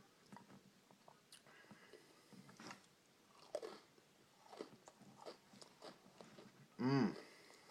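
Peppermint and White Fudge Oreos being bitten and chewed close to the mic, quiet crunches and soft mastication with one louder burst near the end.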